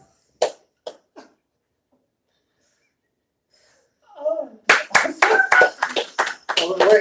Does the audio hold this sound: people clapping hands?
yes